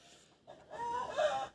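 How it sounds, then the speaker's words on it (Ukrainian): Roosters and hens clucking nearby, a rising run of throaty calls from the flock lasting about a second, moderately loud with no talking. "Пітушків багато, курочок мало"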